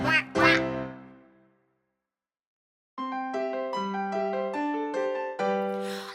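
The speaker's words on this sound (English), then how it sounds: "This quacking duck will not be quiet." A cartoonish duck quacks in an alphabet song for children: two bright, nasal quacks that fade out, a pause, then a run of tuneful quack-like notes in a bouncy rhythm.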